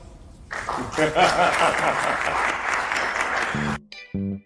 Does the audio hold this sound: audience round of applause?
yes